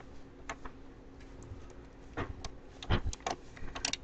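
Knitting needles clicking while working a two-stitch decrease on baby lace knitting, a quiet irregular series of light ticks close by with no talking.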